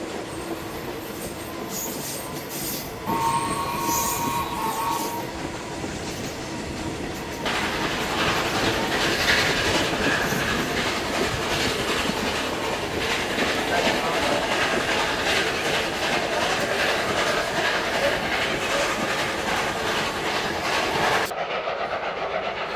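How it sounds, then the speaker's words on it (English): A steam train rumbles steadily along the rails, wheels clattering and squealing faintly, growing louder partway through and holding a continuous roar until it cuts off. "As the train passes through the stations on the line"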